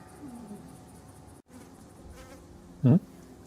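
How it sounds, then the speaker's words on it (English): A loud, intense insect buzz like honeybees, heard as ambience during a fantasy tabletop roleplaying session. The droning hum is steady, with a brief, sharper burst near the end. "you hear this intense buzzing sound"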